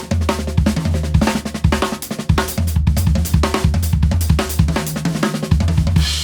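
Linear drumming chops played on a drum kit: rapid, tightly interlocking single hits that jump between kick, snare, toms and cymbals in a dense, driving pattern, loud and close with no voices.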